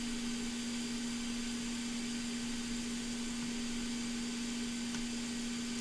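A desoldering vacuum tool runs during a Beoplay P6 Bluetooth speaker repair, giving a continuous, steady electric hum with a broad hiss over it. It stays even and unbroken, with no talk.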